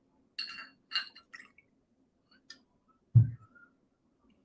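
Glasses clink once in a toast over a shot of soju, a sharp close knock near the middle, preceded by a few faint high metallic chinks and soft background noise.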